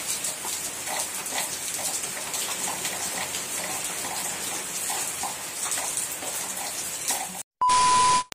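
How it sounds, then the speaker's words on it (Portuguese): Steady rain pours down outdoors, a dense continuous hiss with scattered drop patter, filling the scene without pause until it cuts off near the end, followed by a brief electronic tone. "Chuva abençoada por Deus."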